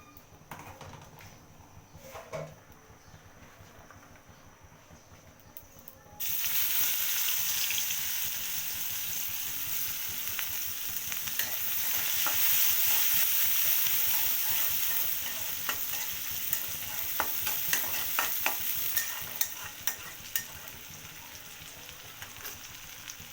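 Masala is fried and stirred in added oil for a rohu fish head and mung dal muri ghonto. A quiet start gives way to a sudden loud, steady sizzle with intermittent spatula scrapes and no talking.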